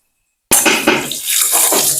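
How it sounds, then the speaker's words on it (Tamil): Hot water from cooked parboiled rice is drained off in a village kitchen, and after a half-second of silence a close, loud splashing pour starts suddenly and runs steadily to the end. "இப்ப வந்து அம்மா வடிச்சு கொண்டிருக்கா."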